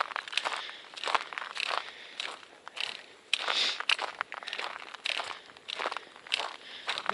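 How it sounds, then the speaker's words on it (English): Footsteps crunching on frozen snow on the Appalachian Trail, a steady walking rhythm of crisp crunches close by, with no talking. "It was all crunchy as you walked on it."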